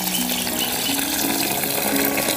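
Water pours steadily into three glasses' worth of rice set to soak for jackfruit seed biryani, a continuous close gushing fill with no talk.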